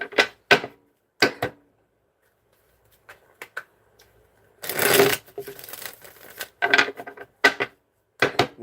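Tarot cards being shuffled in bursts of crisp riffling and slapping, close and fairly loud, separated by short pauses and a few light taps, with no talking.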